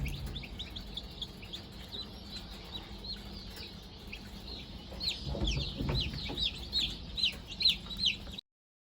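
Newly hatched chicks from free-range chicken eggs in an incubator in Zimbabwe cheep in rapid high peeps, close and continuous, growing busier with soft clucking and rustling beneath.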